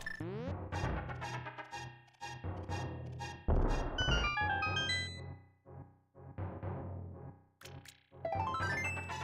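A bomb goes off in The Legend of Zelda: A Link to the Past, one short loud blast over the game's chiptune music, with a few bright jingle tones following.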